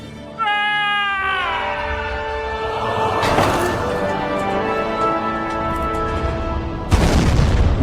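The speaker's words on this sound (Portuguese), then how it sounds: "Um tiro de canhão indicava que eles não tinham achado nada." A cannon fires from an anchored expedition ship as a signal, a sudden booming burst near the end after a long stretch of sustained tonal cries and noise.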